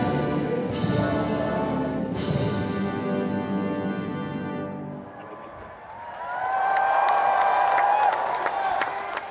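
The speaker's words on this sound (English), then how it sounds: "A spontaneous ripple of applause, and then this final flourish." A crowd watching outside bursts into spontaneous applause and cheers after the national anthem for His Majesty the King, following a fading brass band flourish, the clapping swelling loud and sustained with scattered whoops.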